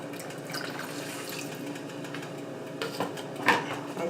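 Warm water poured into gravy in a pan on a low stovetop burner for vegan country fried steak: a steady liquid pour with a few splashy surges near the end, close and fairly quiet, with no talking.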